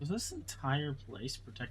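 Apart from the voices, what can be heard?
No everyday noise stands out behind the speech.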